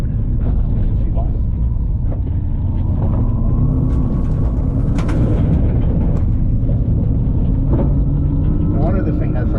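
A 1,000 horsepower vehicle cruising at 65 mph, a loud, constant low engine and road rumble with wind and tyre roar filling the cabin, a voice talking over it.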